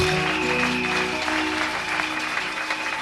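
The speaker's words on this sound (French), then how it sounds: "Acclame bien fort." A congregation applauding at a church service, steady dense clapping throughout, with a sustained tone under it and a faint voice.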